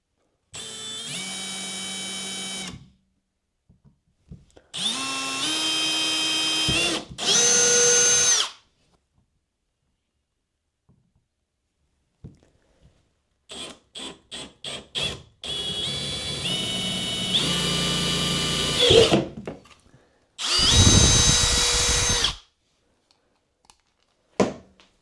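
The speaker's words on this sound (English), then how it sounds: "I have a small drill bit just for drilling a pilot hole." A power drill with a small bit bores a pilot hole during a kayak accessory install, running in several loud, whirring bursts separated by silences, with short stuttering pulses and rising speed changes, and no talking.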